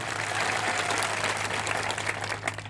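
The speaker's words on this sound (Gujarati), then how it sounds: "જોરદાર તાળીઓ પાડી લઈએ" A crowd at a political public rally in Naswadi applauds steadily throughout, dense clapping with a constant low electrical hum underneath.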